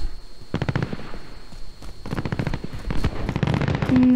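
Gunfire in the Call of Duty Warzone video game, bursts of rapid cracking shots in several volleys over about four seconds, loud and close with a faint steady tone underneath.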